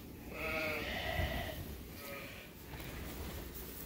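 A ewe bleats on a sheep farm, one close, drawn-out call followed by fainter bleats from the flock amid low background rumble.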